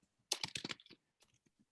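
A short burst of quick clicking keystrokes on a computer keyboard, entering an R package install command, followed by a few scattered single taps after a brief pause.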